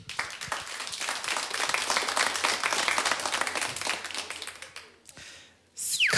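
Studio audience on a children's talent show breaks into lively clapping that runs for about five seconds, then fades to near silence before a sudden loud burst returns.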